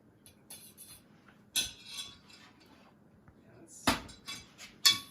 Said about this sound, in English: Mixing it up. Mixing it up. Mixing it up.